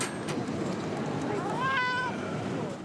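A cat meowing at the Australian Cat Federation's 51st cat show, a single clear rising meow over a busy hall murmur, fairly close and distinct.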